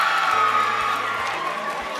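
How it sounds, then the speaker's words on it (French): A crowd of schoolchildren cheers and applauds during a student discussion of a social media ban, with a loud burst of mixed shouts, whoops and clapping filling a short moment. "on peut l'applaudir"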